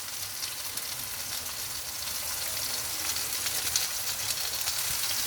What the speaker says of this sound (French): On laisse tout ça mijoter un petit peu.